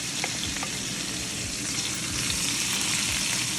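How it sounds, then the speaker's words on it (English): Vegetables sizzle in a hot pan with garlic while Jamaican brown stew chicken is being cooked, a steady close crackling fry with no talking. "so I'm gonna put my vegetables in now"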